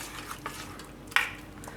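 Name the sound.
stirring vegetables into pava sooji uttapam batter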